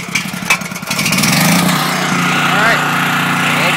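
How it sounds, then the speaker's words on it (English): A portable generator engine catches after a few uneven bursts, then settles into a steady, loud running drone with a little talk over the start. "So generator on, choke on."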